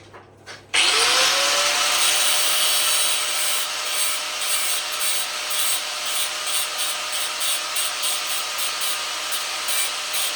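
A power tool trims the bottom edge of a Vauxhall Victor car door. It spins up quickly, then grinds loudly and steadily at close range for about ten seconds, with a slight fluttering toward the end and no voices.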